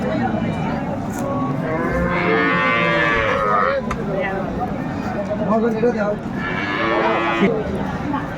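A cow with her calf at a crowded cattle market lows in long, drawn-out moos, two prominent calls rising over the steady chatter of traders and buyers talking nearby.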